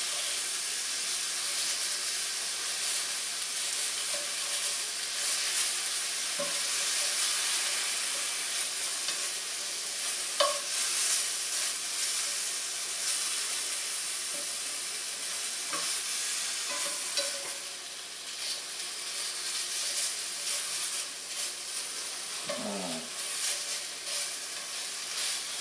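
Rib eye steak sizzles on a hot griddle in a dense, continuous hiss, broken by occasional metal scraper strokes that chop and push the meat, close and steady with no voices.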